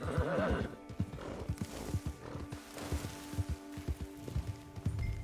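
In Red Dead Online, a horse whinnies at the start and then its hooves clop steadily at a walking pace, faint and fairly close.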